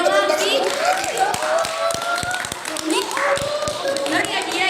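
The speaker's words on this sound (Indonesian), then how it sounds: "Beri tepuk tangan" Classroom applause from students clapping hands for a classmate who answered correctly, a burst of sharp claps mixed with children's voices and chatter, fairly close and lively.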